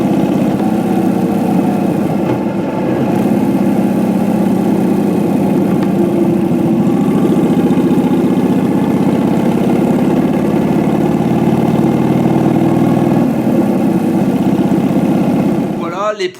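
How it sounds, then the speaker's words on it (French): A Chevrolet engine fitted to a homemade motorcycle idles in a steady, loud low rumble that holds evenly throughout, cutting off abruptly at the end. "rouler avec ce moteur Chevrolet, avec cette moto fabriquée maison"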